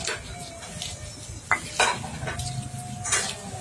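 Shallots and garlic being stirred into a pan for Minang dendeng lambok, with a few sharp utensil clinks and scrapes against the metal over a low, steady background.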